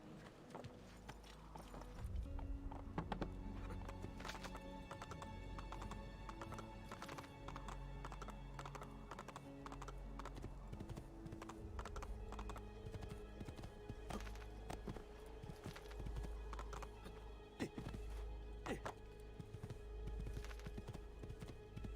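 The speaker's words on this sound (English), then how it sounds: "I will grab one of the horses." Steady clip-clop of horse hooves with occasional whinnies in Assassin's Creed 2, continuous and fairly close over a busy game background with scattered clicks.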